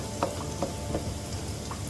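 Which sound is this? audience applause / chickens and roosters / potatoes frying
potatoes frying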